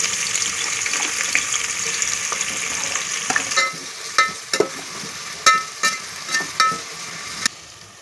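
Sliced onions fry in hot oil for egg biryani, giving a steady close sizzle that fades partway through. A run of sharp clinks and scrapes from stirring in the pan follows, with no voices.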